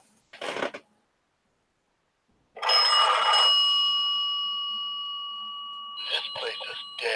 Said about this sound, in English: I got another phone call coming in.